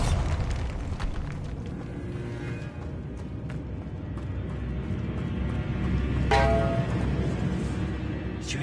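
A Bombarda spell blast in Hogwarts Legacy booms as a deep, rumbling explosion. A heavy low roar swells steadily and peaks near the end, with no voices over it.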